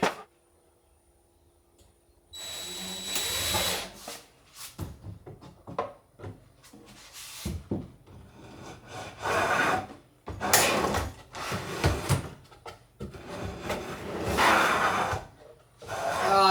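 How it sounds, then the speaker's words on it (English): A wooden drawer that rubs on something and will not close properly, scraping and knocking through several rough slides and bumps in a quiet room. "Doesn't exactly close properly. It means it's rubbing on something. Likely means the drawers are a little bit too big"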